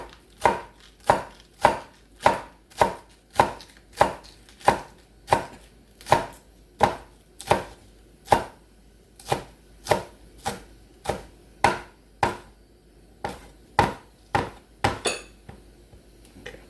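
A kitchen knife chops green onions, white and green parts alike, on a cutting board. About twenty crisp, evenly spaced strikes ring out close and alone at a steady rhythm, with no talking.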